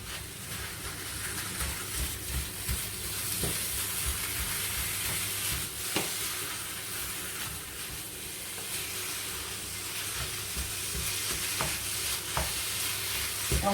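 Minced meat stirred and fried in a pan gives a steady, close sizzle and hiss, with occasional scrapes and taps of the utensil against the pan, and no one talking.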